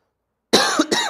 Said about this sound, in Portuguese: peço desculpa aí de estar tossindo aqui